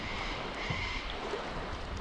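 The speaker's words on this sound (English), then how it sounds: "And now we're back paddling." Canoe paddling on the Murray River in Australia: a steady wash of water and wind noise, with soft paddle splashes and faint low knocks close by, and no voices.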